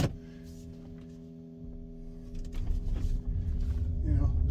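A 2008 VW Beetle converted to electric power, its 2.5-litre engine removed, drives along with a steady tonal motor hum while road rumble swells gradually louder as it picks up speed.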